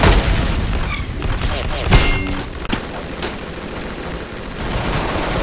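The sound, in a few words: gunfire and rocket launcher shots in a video game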